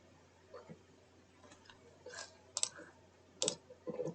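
A computer mouse clicks the Open button while building a C# Windows Forms app, with two sharp, quiet clicks standing out from soft desk noises.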